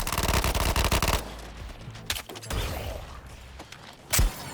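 Gunfire in the Suicide Squad: Kill the Justice League video game opens with a loud, rapid automatic burst, followed by scattered heavy shots, mechanical clanks and a final booming blast.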